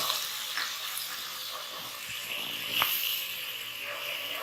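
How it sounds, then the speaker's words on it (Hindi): Chopped onion sizzling steadily in hot oil in a pan, a continuous near frying hiss with a few faint stirring knocks and no talk. "अब हम इसमें ये चॉप प्याज ऐड कर रहे हैं।"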